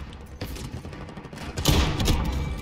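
Gunfire from the video game Modern Warfare: a burst of muffled, thumping shots with a louder volley near the end. The shots sound close, with no speech.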